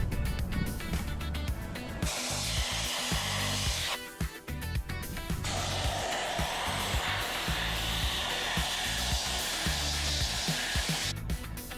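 Air-powered spray gun driven by a home air compressor, loud steady hissing bursts with short pauses between, close up, mixed with clatter and mechanical noise.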